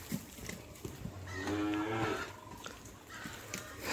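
A pregnant Gir heifer moos once in a long, drawn-out low call at close range, with faint background noise around it and no speech.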